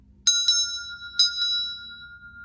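A small bell is struck four times in two quick pairs during a breathing meditation, each strike a clear ringing tone that lingers and slowly fades in a quiet room.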